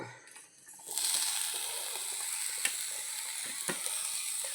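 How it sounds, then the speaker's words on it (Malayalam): Coconut, fennel seeds, shallots and garlic roasting in a pan give a steady close sizzle that swells after the ingredients go in, with occasional scraping clicks of stirring. "നമുക്ക് തേങ്ങ 2 സ്പൂണ് പെരിഞ്ചീരകം, 2 ചെറിയ ഉള്ളി, 2 വെളുത്തുള്ളിയും കൂടി ഇട്ടിട്ട് നമുക്കിതൊന്ന് വറുത്തെടുക്കാം."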